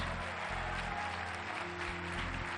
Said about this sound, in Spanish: Un aplauso para ellas y ellos.